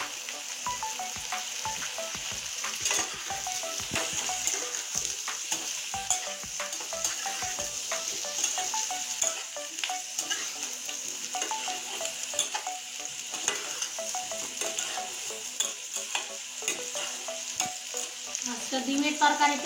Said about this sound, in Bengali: পেঁয়াজের সঙ্গে আলুটাও কষানো হয়ে যাবে